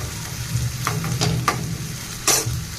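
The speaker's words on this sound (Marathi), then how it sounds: "लसूण टाकले, कांदा टाकले, चांगलं परतवून घेते थोडंसं लालसर होईपर्यंत" Garlic and onion sautéing in a pan, a steady close sizzle broken by a few sharp scrapes and taps of a stirring spoon, with no voices.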